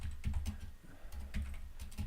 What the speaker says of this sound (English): I'm going to go ahead and type in a message for Johnny.